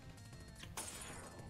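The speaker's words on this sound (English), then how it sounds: "glass breaking sound is very satisfying," Glass breaks in a video game, one bright crashing burst partway through that trails off over a steady backdrop of game music.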